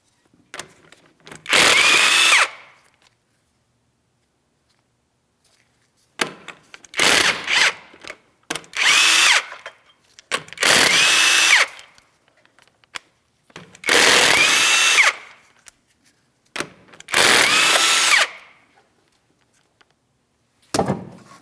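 Power drill spinning off 19mm lug nuts on a 2007-2014 Ford Edge during a rear brake job, six loud separate bursts of whirring and ratcheting, each a second or two long with silence in between.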